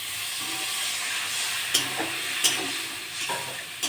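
A little water splashes into spices frying in a pan for a fish-head mung dal, setting off a loud, bright hissing sizzle, with several sharp spattering bursts and stirring scrapes close by.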